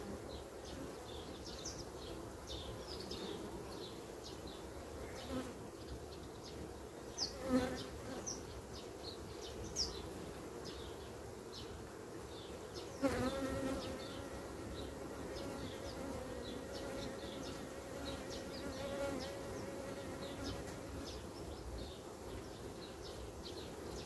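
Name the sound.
honeybees buzzing in a hive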